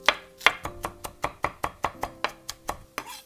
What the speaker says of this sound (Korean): 소스에 들어가는 쪽파는요, 잘게 잘라주겠습니다.